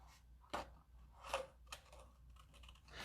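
Scissors snip paper quietly, with about three crisp cuts spaced unevenly and faint rustling between them.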